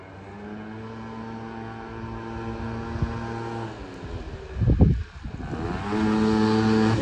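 A two-stroke motorbike returns from a test ride with a freshly jetted exhaust pipe: the engine drones at a distance, then swells with a burst of revving as it nears and passes close by.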